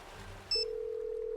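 A phone call tone in the Nancy Drew game: a short high beep, then a steady electronic ringback tone held clearly over quiet background.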